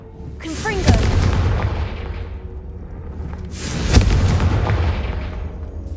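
In the video game Hogwarts Legacy, two Confringo explosion spells land a few seconds apart, each a loud booming blast with a whooshing, crackling tail that fades slowly.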